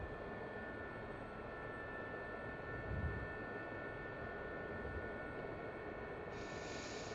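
A Gazelle helicopter in a video game flies steadily on a long recon run, its engine and rotor giving off a constant droning roar with no talking.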